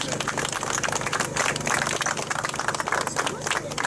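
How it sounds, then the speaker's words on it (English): Steady crowd applause and clapping at a metal casting foundry demonstration, dense and continuous for the whole stretch, with a hubbub of voices mixed in. "Round of applause for her"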